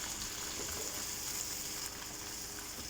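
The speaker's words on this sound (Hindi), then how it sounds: "हमने चम्मच जो है वो मुसलसल हिलाना है ताकि जो हलवा है वो जुड़े नहीं कढ़ाई के साथ" A spoon stirring semolina halwa in a kadai on the stove, with steady frying sizzle and soft scraping throughout, close and fairly quiet.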